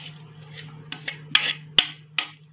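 A spoon clinks and scrapes as tempering is poured into mango pickle and stirred in. Several sharp, close taps over a low steady hum, with no talking.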